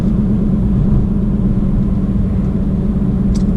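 A BMW M2 on the road, its engine and tyre noise forming a steady, loud low rumble that stays even throughout with no voices.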